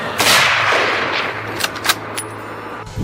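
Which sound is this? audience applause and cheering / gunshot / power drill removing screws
gunshot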